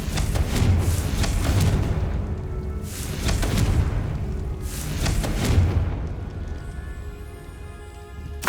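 Confringo blast spell in the video game Hogwarts Legacy: three heavy booming explosions spaced a couple of seconds apart, each a sharp burst with a rumbling tail, loud and close, with no talking.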